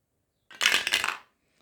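A six-sided die tumbles and clatters across a hard surface in a single short burst of rattling impacts lasting about half a second, close and fairly loud.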